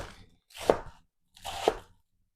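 A knife chops salad ingredients on a cutting board, two distinct, close, crisp chops about a second apart with brief quiet between, no talking.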